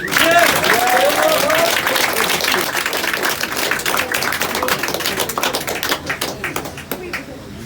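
A club crowd at a funk jam session applauds and cheers the guitarist, with loud, dense clapping that thins into scattered claps, and a voice calling out at the start.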